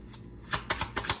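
Tarot cards being shuffled close by, with a few quick riffling bursts in a quiet room and no talk.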